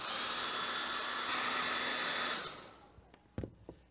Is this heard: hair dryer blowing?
yes